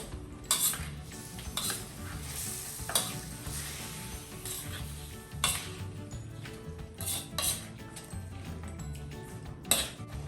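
A spoon repeatedly scrapes and clinks in a pan while chicken afritada seasoned with pepper is stirred, over a steady frying sizzle, close and moderately loud with irregular strokes.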